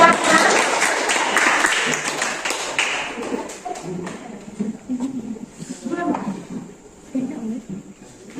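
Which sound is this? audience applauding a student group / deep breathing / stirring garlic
audience applauding a student group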